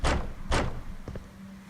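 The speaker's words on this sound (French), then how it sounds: "Oh, enfin une porte ouverte!" A door opening in a virtual reality video game, heard as two loud thumping knocks followed by softer clicks and a low hum, with no talking.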